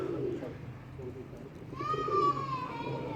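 Pigeons coo with soft, low gurgling calls under nearby voices and children's chatter in a rooftop pigeon-keeping setting, followed by a higher drawn-out whistle-like call.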